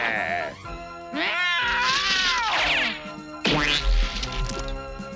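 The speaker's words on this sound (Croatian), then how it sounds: "Ti prokleta prljava mačketino!" A cartoon cat, the wizard's pet in a Smurfs cartoon, yowls and caterwauls in long wavering, rising and falling cries, loud and close, with a brief thump between outbursts.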